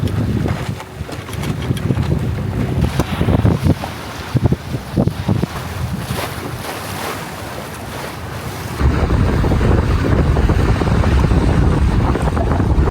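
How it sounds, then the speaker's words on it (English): A sailboat heads south under sail in a light 8 to 12 knot breeze, with water rushing and splashing along the hull, wind buffeting the microphone and the rush growing louder and steadier toward the end. "We have a light 8 to 12 knot breeze as we sail south to Isla Partida"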